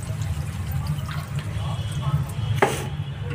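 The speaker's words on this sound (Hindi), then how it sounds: "तो मैं अब पानी डाल दे रही हूँ" Water is poured into a cooking pot of vegetable curry on a home stove, a soft splashing and trickling fill over a low background hum, ending in a brief louder splash.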